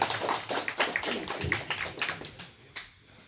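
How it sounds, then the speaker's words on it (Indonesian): A small gathering of technicians applauding their chairman, scattered individual handclaps in an uneven rhythm, fairly close and thinning out toward the end. "Tepuk tangan lah untuk ketua."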